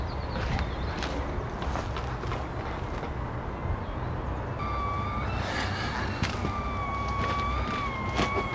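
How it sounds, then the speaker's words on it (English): Kettle coming to the boil, a sustained rushing hiss that builds toward a rising whistle-like tone in the later half, with scattered clicks and knocks around it. "Sounds like the kettle's boiling again."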